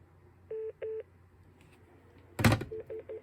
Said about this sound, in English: So instead of the regular single call waiting beep, we get a double call waiting beep.